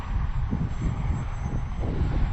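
A lightweight Hobbyzone Aeroscout RC plane flies in strong, gusty wind, its motor humming steadily at low throttle with buffeting wind noise throughout.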